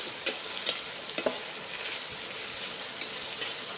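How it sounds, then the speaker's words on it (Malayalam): Small onions, ginger and garlic half-frying in a pan, a soft continuous sizzle with a few faint stirring taps, quiet and close with no speech. "ഇത് ഉള്ളിയൊക്കെ ഒന്ന് പകുതി സെമി ഫ്രൈ ആയിട്ടുണ്ട്"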